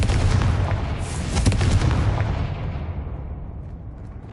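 Confringo spell blast in the Hogwarts Legacy video game: a loud, broadband explosive burst with crackling bursts early on, then a rumbling decay that fades over several seconds, with no talk.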